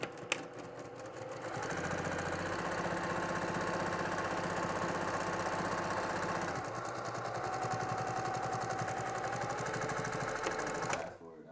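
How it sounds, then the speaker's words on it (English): A sewing machine stitches straight across the bottom of two outer fabric pieces for a boxed zipper pouch. It runs as a steady, close mechanical whir for about ten seconds, with a slight shift in tone partway through. "I'm going to sew all the way across the bottom of the two outer"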